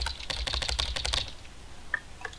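Keyboard clicks from the Emily Is Away video game patter in a quick, dense burst of keystrokes, then trail off into a couple of sparse taps, quiet and alone with no speech.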